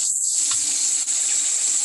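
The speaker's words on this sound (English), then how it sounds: "Here's the faucet." Water runs steadily from a kitchen faucet during a home inspection, a constant bright hiss that holds evenly throughout with no pauses.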